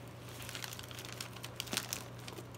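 Wrapping paper folded around a gift, close up: soft continuous crinkling and rustling with a few sharper crackles toward the middle, over a low steady hum.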